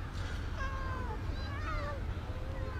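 Cats meowing outdoors on Batumi Boulevard, several short rising and falling meows close by over a steady low rumble of street or seaside background noise.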